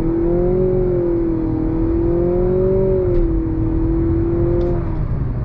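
2023 Nissan Altima VC Turbo accelerating hard in sport mode, a loud, steady engine whine that rises and dips with simulated shifts, alone without talk.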